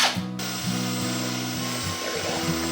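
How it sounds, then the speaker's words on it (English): A power drill fitted with a paint mixer attachment churns homemade laundry soap, giving a loud, steady motor whine that dips and rises with several brief speed changes, opening with a short harsh burst. "it attaches to your drill and you just put it in here and stir it this way"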